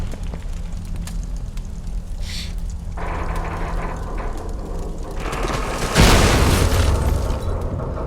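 An object bursts into flames in Tomb Raider Definitive Edition: steady mechanical clanking and ratcheting give way to a sudden loud whooshing ignition that keeps roaring and crackling to the end, with no talking.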